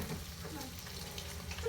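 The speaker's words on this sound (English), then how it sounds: "The bacon right now cooking." Bacon frying in a pan, a steady broadband sizzle and crackle at moderate level, continuous for the whole short stretch with no voices over it.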